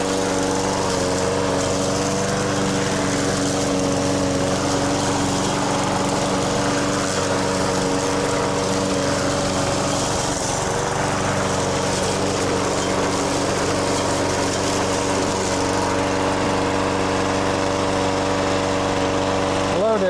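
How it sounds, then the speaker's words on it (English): A lawn mower runs steadily and loudly while mowing a lawn, its engine drone continuous throughout with a faint change in pitch near the end. "if we mow to here, we're gonna mow this before"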